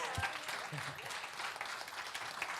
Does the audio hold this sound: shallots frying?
no